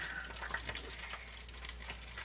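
Food frying in a deep fryer, a steady dense crackle and bubbling hiss close up, with no voices.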